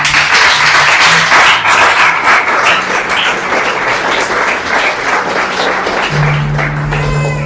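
A church congregation applauding for the Lord, dense continuous clapping from many hands, loud and full throughout, with a few voices underneath.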